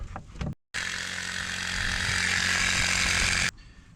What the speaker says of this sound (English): So I'm going to try and hook up this little compressor I got. I'll just try to pump this tyre up